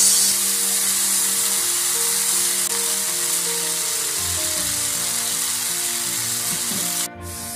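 Green chili, ginger and curry mix sizzle steadily in hot oil in a pan while making meat cutlets, a loud continuous frying hiss with no talking, ending abruptly near the end.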